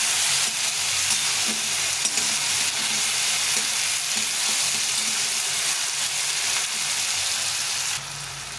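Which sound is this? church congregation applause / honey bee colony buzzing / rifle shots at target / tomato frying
tomato frying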